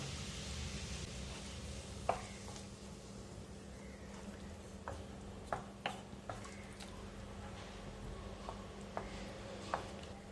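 Okra curry simmering with coconut milk gives a faint, steady sizzle and bubbling, broken by a few soft clicks and taps of a spoon against the pan.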